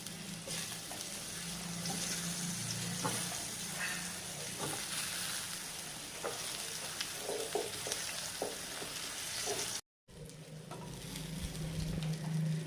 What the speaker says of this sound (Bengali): 2 রকম করে পটল ভাজি করে নিলাম